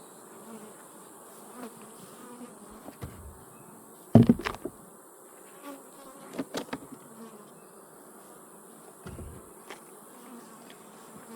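Honey bees buzzing steadily around an opened backyard beehive during an inspection, a continuous close drone with a few louder bees passing near, broken by occasional brief knocks and scrapes of hive equipment.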